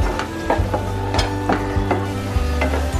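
Chili powder, cumin powder, crushed black pepper and garam masala sauté in a pan for malai chicken. A close, continuous sizzle is punctuated by regular, rhythmic scrapes of a spoon stirring the masala, with no talking.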